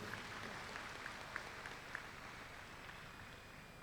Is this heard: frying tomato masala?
no